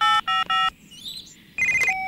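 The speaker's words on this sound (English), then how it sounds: "Oh, I'd better phone and tell him." Touch-tone telephone keypad dialing: three quick beeps, a brief pause with faint chirping in the background, then a longer tone, all loud and close.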